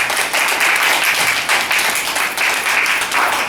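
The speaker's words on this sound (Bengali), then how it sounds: "সবাই নিজে হাততালি দিয়ে একটু উৎসাহিত করতে" Audience at a distributor training session clapping together, a loud, close burst of continuous applause lasting a few seconds with no pauses.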